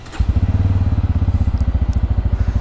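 A Bajaj Pulsar N160 motorcycle engine cranks and fires up in light rain, then settles into a loud, close, steady idle with an even pulsing thump.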